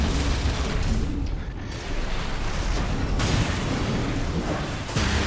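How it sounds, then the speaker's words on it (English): A video game minigun fires in a dense continuous roar of rapid shots, loud and close, with a brief dip in the middle before the sustained firing resumes. "Let's overheat that minigun a little bit here."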